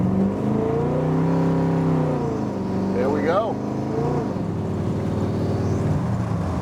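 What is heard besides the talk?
1957 Chevrolet Handyman accelerating through its gears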